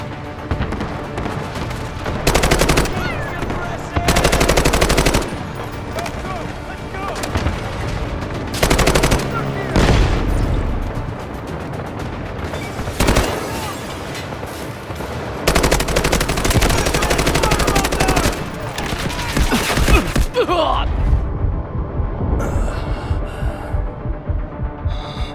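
Gunfire in the video game Delta Force: loud bursts of automatic weapon fire and heavy booms alternate with gaps, mixed with shouted combat callouts and battlefield rumble.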